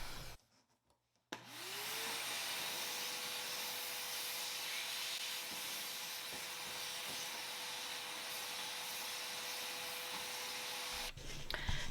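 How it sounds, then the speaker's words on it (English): A vacuum cleaner cleans a mid-century modern furniture piece; after a brief pause it starts up and runs as a steady, loud whine and hiss for about ten seconds before cutting off. "I'm gonna vacuum first."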